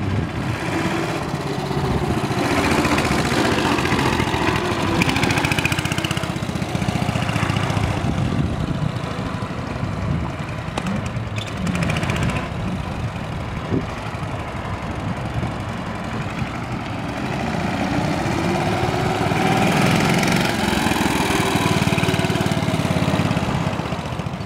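A 1965 Cushman two-speed scooter engine runs steadily in low gear, a loud continuous chugging drone that rises and falls slightly, with no talk.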